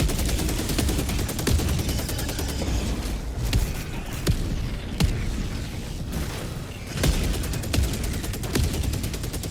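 Orbital barrage strike in Helldivers 2, a sustained series of heavy impacts and booms mixed with rapid gunfire, dense and loud throughout with repeated sharp blasts.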